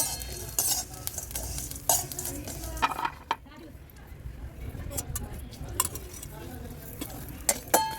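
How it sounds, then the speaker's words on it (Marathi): A spoon scrapes and stirs red chilli masala as it heats dry in a pan, with metallic clinks and soft scraping over a faint sizzle, close by, while someone talks over it. "आपण नुसतं मसाला असा गरम करून घ्यायचा भाजायचा नाही"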